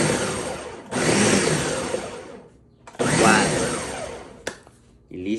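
Blender pulsing sesame seeds and peanuts for salsa macha, in two loud whirring bursts of about two seconds each separated by a quiet pause, with a brief clatter near the end.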